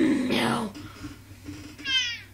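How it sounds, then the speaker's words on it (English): A toy cat gives a squeaky mechanical meow when its belly is pressed, a short bright sound near the end after a stretch of voices and a child's babble. "You just rub his belly and you push and he meows."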